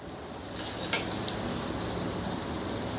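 Cauliflower pieces for gobi 65 deep-frying in hot oil, giving a steady soft sizzle and bubbling, with a few brief metallic clinks of a utensil against the pan near the start.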